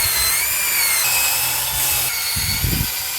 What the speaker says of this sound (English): I've got a brush on the end of my drill